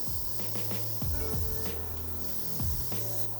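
Spray paint hisses softly in light, even passes onto the canvas panel of a Nike SB Dunk sneaker, a faint continuous spray over a low background hum, with no talking.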